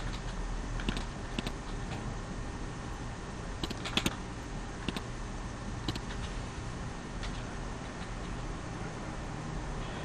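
Bill number being typed on a computer keyboard in a steady run of light, scattered keystroke clicks with a few sharper taps, set against a constant background hum, with no talking.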